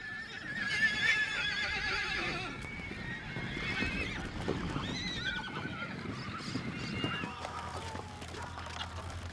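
Horses at a hacienda in Brazil's Pantanal whinny repeatedly, shrill neighs rising over hoof clopping and outdoor background sound, fairly close and steady throughout.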